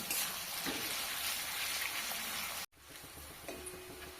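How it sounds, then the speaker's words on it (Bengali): Onions fry in oil for biryani, giving a close, loud, steady sizzling hiss that cuts off abruptly. A quieter, softer crackle follows. "পেঁয়াজটা লাল লাল করে ভাজা হয়ে গেছে"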